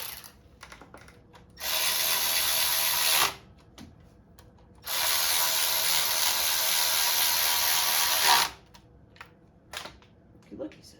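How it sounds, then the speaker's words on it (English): A speed ratchet spinning bolts off a 2001 Mazda Miata 1.8 VVT during a timing belt and water pump job. Two sustained whirring bursts, the second longer, come close up between quiet gaps with faint clicks and brief talk. "Speed ratchet's nice. Make this go by a lot faster."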